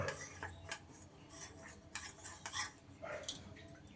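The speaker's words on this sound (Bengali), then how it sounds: "এক চামচ কর্নফ্লাওয়ার দিয়ে এটাকে একটা ঘোল তৈরি করে নেব" A spoon clinks and scrapes against a bowl in light, irregular taps while cornflour is stirred into water to make a slurry, with no talk.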